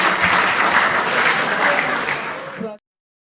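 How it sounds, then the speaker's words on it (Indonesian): Dense audience applause at a student executive board (BEM FMIPA) candidate discussion, a steady wash of many hands clapping at once for four candidates that runs loud and even before cutting off abruptly near the end. "Sebelumnya beri tepuk tangan lagi kepada 4 kandidat kita."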